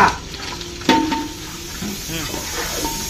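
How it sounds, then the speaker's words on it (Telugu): Onions and whole spices frying in ghee for mutton pulao, a close soft sizzle with a sharp utensil clink near the start and stirring scrapes over the rest. "ఇది నెయ్యిలో మంచిగా ఫ్రై అవ్వాలి, గోల్డెన్ బ్రౌన్ కలర్ లోకి రావాలి."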